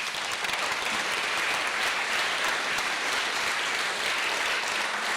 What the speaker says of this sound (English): they deserve a big applause from us to the whole Kickstart team